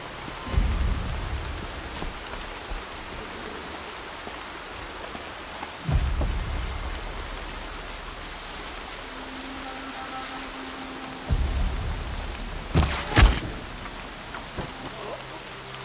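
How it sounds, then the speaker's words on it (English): Steady rain falls in a video game, with deep rolls of thunder swelling at intervals and a sharp crack of thunder near the end, all without talk. "More rain."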